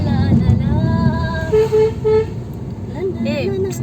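A car horn toots in a few short bursts over road noise, with people talking nearby, near the Sita River at Barkur.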